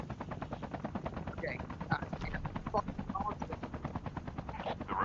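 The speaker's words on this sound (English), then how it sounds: "We got choppers." Video game battle with helicopters overhead and rapid machine-gun fire rattling continuously, dense and loud, while someone speaks briefly over it.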